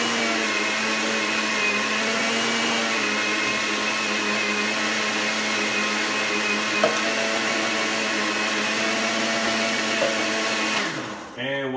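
A blender grinds a fat burner drink mix in a steady, loud whirring drone that holds unchanged for about eleven seconds before the motor winds down and stops at the end.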